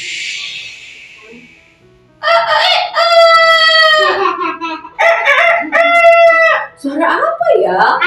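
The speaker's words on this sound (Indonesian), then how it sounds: "Suara apa ya? Ayam." A rooster crows loudly and up close several times in a row, each long harmonic call ringing out clearly, with a brief higher squeal or chirp sounding just before the first crow.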